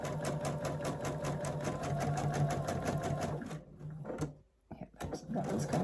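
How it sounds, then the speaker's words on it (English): Sewing machine stitching along a marked line on a quilt project, a rapid, even mechanical chatter that runs for several seconds, then stops briefly before a few short bursts resume. "So I'm going to try my best to sew on that line"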